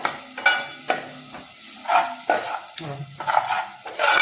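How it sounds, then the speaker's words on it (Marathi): Malvani roasted masala being sautéed in a pan, with a low sizzle broken by repeated close, sharp scraping stirs in an uneven rhythm, no voices. "हा मालवणी मसाला आपल्याला व्यवस्थित असा परतून घ्यायचा आहे।"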